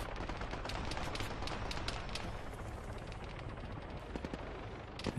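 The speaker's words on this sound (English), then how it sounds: "people really can't tell where you're shooting from when you're using the suppressed Cyrus, even from surprisingly close range" Suppressed Cyrus rifle fire mixes into a dense Arma 3 firefight, with sharp repeated shots over a constant roar of distant gunfire and no talk.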